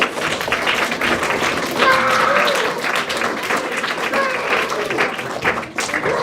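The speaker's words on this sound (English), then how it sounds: "Let's clap again for our students." Audience applause for piano recital students at a spring recital, a loud sustained round of clapping from a gathered crowd with voices chattering underneath throughout.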